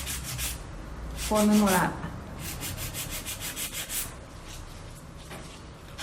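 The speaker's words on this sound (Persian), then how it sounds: "برای سوهان کشی همونطور که گفتم اول سایدوارها به صورت موازی" A nail file rasping along the sidewalls of an acrylic nail in parallel strokes, a rhythmic series of rubbing passes repeating steadily, with a brief spoken phrase and a short tonal sound in the middle.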